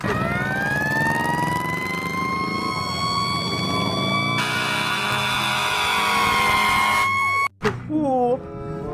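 A toy fire truck siren wails steadily with bright electronic tones, loud and close, then cuts out abruptly near the end before a brief restart.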